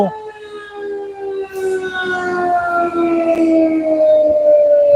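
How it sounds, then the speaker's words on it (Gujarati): A loud wailing warning siren at a dam, sounded as floodgates release high water flow, with steady, sustained tones holding strong throughout without pause. "સાયરનનો અવાજ તમે સાંભળી શકો છો પાણીનો પ્રવાહ વધારે હોવાથી સાયરન વગાડવામાં આવી રહ્યું છે"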